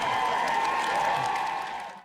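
Canned applause from a studio applause button, a steady wash of clapping that holds loud for about two seconds and then cuts off abruptly.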